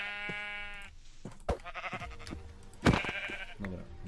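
Sheep in the Minecraft video game bleat in several loud wavering calls, one after another, with quieter game clicks and bits of a player's voice between them.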